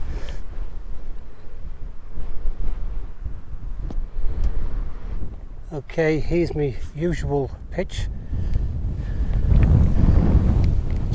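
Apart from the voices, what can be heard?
strong wind on a hilltop crag at night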